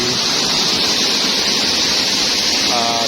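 A small waterfall spills between the cliffs at Kedung Bowo as a steady, loud, broad hiss of falling water with no break. A faint tonal sound shows up briefly near the end.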